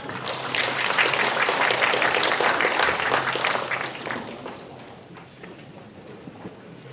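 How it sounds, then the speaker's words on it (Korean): A big round of applause at an international Confucianism forum in Chungcheong, loud and full for about four seconds, then fading to scattered clapping and room noise. "큰 박수 부탁드립니다"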